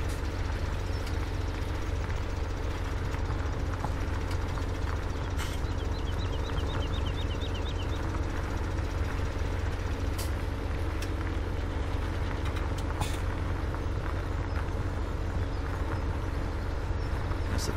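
A tractor in Farming Simulator 17 works a plowing field in Goldcrest Valley. Its engine drones steady and low throughout, joined by faint clanks and a brief high chirp.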